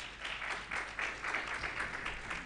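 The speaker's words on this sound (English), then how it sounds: "A round of applause." An audience at a summit launch event applauds, a fairly faint patter of many hands clapping in an irregular, continuous stream that swells slightly and fades a little toward the end.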